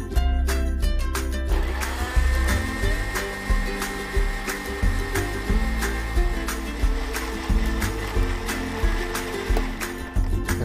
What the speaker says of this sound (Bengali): এখন ব্লেন্ড করবো এটা আমি।